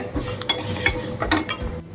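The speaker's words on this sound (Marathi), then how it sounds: "आणि आई इकडे रवा भाजते" Semolina is dry-roasted in a pan for fenugreek laddoos while a spoon stirs it, with steady scraping and occasional metallic clinks against the pan.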